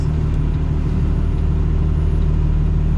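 A truck hauling a small 28-foot reefer trailer rumbles steadily at low speed through a tight turn, with a constant deep engine drone and a reefer unit hum throughout.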